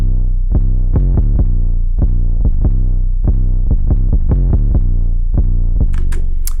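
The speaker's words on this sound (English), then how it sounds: "We have the bass, the 808, and it sounds like this." Deep 808 bass from a beat, booming low hits in a steady rhythmic pattern, loud and alone, with a brief bright tail near the end.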